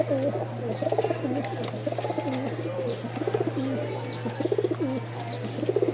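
Male pigeon cooing repeatedly in a loft, rhythmic rolling coos in steady bursts, close and clear over a constant low electrical hum.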